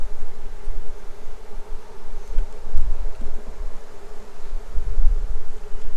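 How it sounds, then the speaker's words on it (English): Dense, steady buzzing of many agitated bees from an opened hive fills the whole stretch, loud and close, with no voices. "we sure can hear them buzzing."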